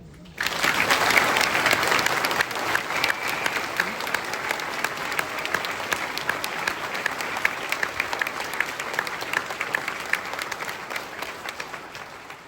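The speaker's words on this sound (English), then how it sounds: "Ladies and gentlemen, please join me in our applause for America's new soldiers" An audience at an Army basic training graduation bursts into applause for the new soldiers, a sudden onset of many hands clapping that holds steady for over ten seconds, somewhat distant and reverberant.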